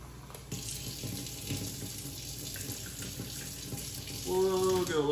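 Water runs steadily from a tap in a continuous broadband rush, close by, with a brief clatter near the end as the flow changes.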